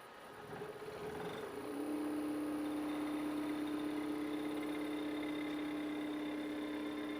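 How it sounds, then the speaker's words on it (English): An AC-35 electric motor driven by a Curtis 1238 controller during a throttle test, spinning up over about two seconds into a steady high-pitched electric whine and hum that holds evenly at moderate level, no speech. "this is what it's going to do during my motor characterization, or the throttle test"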